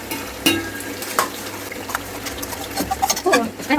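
A chicken biryani spice paste of turmeric, chillies, coriander and mint fries in a pan, a steady sizzle with occasional spoon scrapes and clinks, getting busier toward the end.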